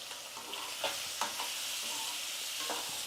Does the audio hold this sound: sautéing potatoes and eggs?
yes